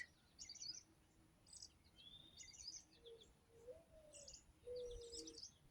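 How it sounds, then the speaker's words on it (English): A couple of soft, low owl hoots sound faintly in the distance while small birds chirp and tweet in scattered bursts around them. "I hear an owl."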